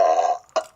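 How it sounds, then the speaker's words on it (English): A single loud, close burp rumbles for about a third of a second and fades, then a second shorter belch-like burst follows. No one speaks. "Where was that burp when you needed it?"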